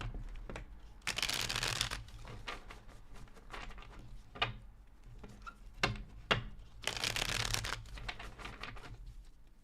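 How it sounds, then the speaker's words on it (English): Tarot cards are shuffled in two quick riffling bursts, close and crisp, separated by quieter handling and taps. "Two more shuffles."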